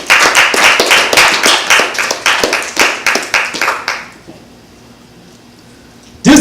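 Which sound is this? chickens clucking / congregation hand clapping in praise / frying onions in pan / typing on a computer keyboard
congregation hand clapping in praise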